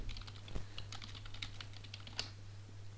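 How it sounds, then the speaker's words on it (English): Close, quiet clicking of computer keyboard keys as a message is typed into a chat window, in an irregular run of taps over a low steady hum, with no talking. "so just try to type a message to my friend"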